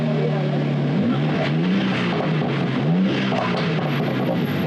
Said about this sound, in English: Nice pop-pops on the overrun,